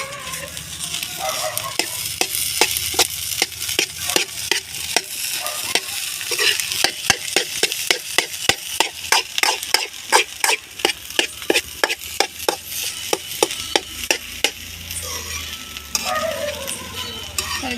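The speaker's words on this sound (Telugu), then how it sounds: "కలిపి బాగా" Food stirred and fried in a hot pan in a home kitchen, with green chillies added: a steady sizzle under rapid, repeated scraping strokes of a spoon against the pan, close and fairly loud, with no talk.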